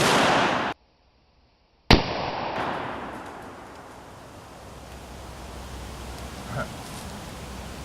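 A single sharp rifle shot fires a steel-cased soft-tip MFS round at a pumpkin outdoors, a loud crack followed by a long rolling echo that fades into wind noise.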